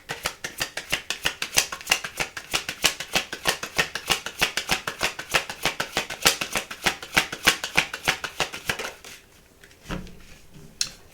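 Tarot cards are shuffled by hand in a fast, even run of crisp riffling snaps for about nine seconds, close and loud, then a pause and a couple of softer taps.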